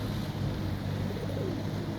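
Pigeons gathered to feed after being given food, with a soft continuous cooing murmur over steady low background noise.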